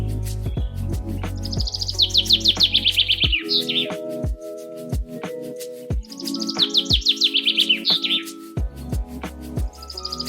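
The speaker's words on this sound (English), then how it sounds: "Here's a little bit of birds singing" Birdsong with bright chirping trills that come in two clear bursts, set over lower tonal notes and soft knocking sounds, moderately loud and with no voices.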